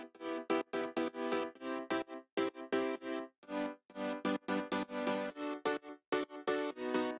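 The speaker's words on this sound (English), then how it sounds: "Finally we have the chords, which play a huge role in this drop." Electronic chords from a dance track drop, played as bright, sustained synth stabs in a choppy, gated rhythm with short silent gaps between bursts, loud and alone with no voices.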